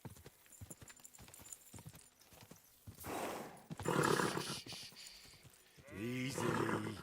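Quiet hoofbeats clip-clop at a steady pace in the video game Kingdom Come: Deliverance 2, then louder rumbling bursts and a horse's whinny break in near the end.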